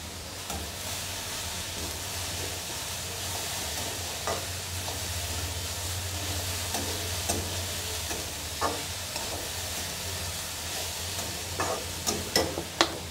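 A cauliflower paratha filling with red chilli powder, green chilli and coriander leaves sizzles steadily in a pan, and a spoon scrapes and stirs it in scattered clicks, a low hum running underneath.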